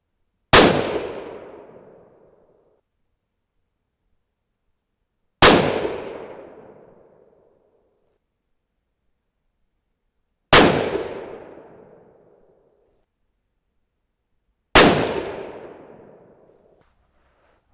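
.22-250 rifle loaded with Reloder TS powder fires four evenly spaced, sharp loud shots outdoors, each crack decaying over about two seconds into silence.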